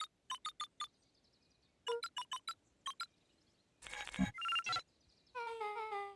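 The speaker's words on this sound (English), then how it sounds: "entered the letters into the keypad" In the video game Beacon Pines, a phone booth keypad gives short bright beeps in quick clusters as letters are entered, followed by a louder chiming tone sequence, isolated and clean.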